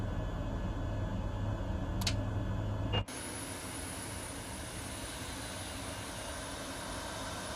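Simulated jet engine of a Boeing 737 MAX-8 airliner in a flight simulator game: a steady broad rumble and hiss that cuts off abruptly with a click, then gives way to a thinner, quieter whine with a high tone.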